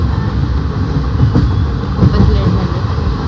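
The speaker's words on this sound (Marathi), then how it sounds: "ट्रेन चालली." Passenger train in motion on an Indian railway journey, a loud continuous rumbling wheel-and-carriage roar heard from inside, with faint voices mixed into the steady noise.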